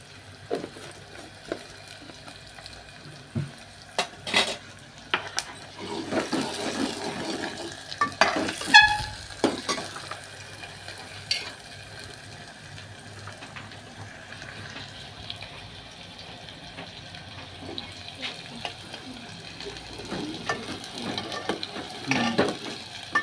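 Coriander and cumin stirred and frying in a hot pan, with soft crackling sizzle and scraping stirs throughout, a few sharper clatters near the middle, fairly close and steady, no talking.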